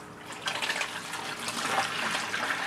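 Water runs and gurgles steadily through an aquarium gravel siphon as it drains, a close, continuous splashing flow that grows slightly louder partway through, with no talking.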